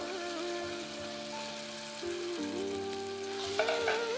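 Potatoes and peas sauté in hot oil for a vegetarian ghugni, giving a steady, even sizzle with a few louder bursts of stirring near the end and no voices.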